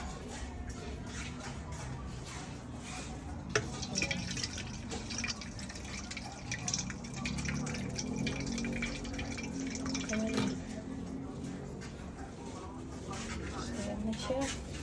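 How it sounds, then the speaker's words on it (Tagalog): Water is added to a cooking pot while making puto balinghoy, a soft continuous trickle and pouring wash running for the whole stretch, fairly quiet, with a voice talking over it. "Dagdagan pa ng tubig."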